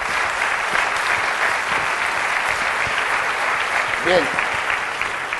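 An audience at a national congress on gambling applauds the director general for gaming regulation, a dense, steady roll of clapping throughout, with a voice briefly speaking over it near the end.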